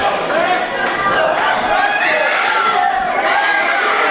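A large wrestling crowd at a Greenville, Texas arena cheers and shouts in a steady, loud roar, with scattered voices rising out of the dense mass of sound.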